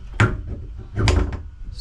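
A solid wooden access door on a North Pacific 43-foot pilothouse yacht opens with two soft thuds of latch and wood, close and moderately loud, with a brief rattle between.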